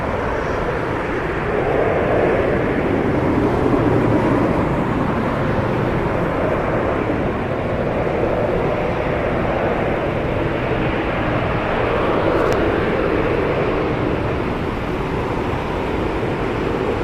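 An Alaska Airlines airliner in the More to Love livery at LAX, with a steady, broad jet roar holding fairly loud and even throughout, no talk over it.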